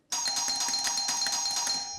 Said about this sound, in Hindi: इतनी बार डोरबेल बजाने पे भी